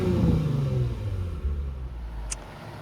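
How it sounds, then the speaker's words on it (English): A 2026 Lexus IS 350 with a 3.5-liter engine revs with a deep, throaty exhaust rumble that gradually settles lower, fairly close and steady throughout. "Real nice throaty exhaust."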